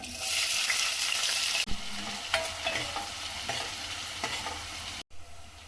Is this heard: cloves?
yes